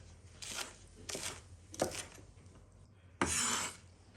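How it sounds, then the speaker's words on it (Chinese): Fresh ginger sliced thin with a kitchen knife on a board, giving four separate bursts of crisp chopping strokes with short pauses between them, the last one longer and louder. "下面准备1块生姜，切成薄片"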